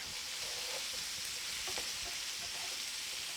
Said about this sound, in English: this is going to sort of saute, simmer in the oil with the garlic clove or two until the onions wilt